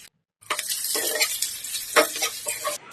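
Finely chopped onions dropped into hot oil in a pan for a beetroot coconut curry, a burst of close, loud sizzling with stirring scrapes and a brief clink.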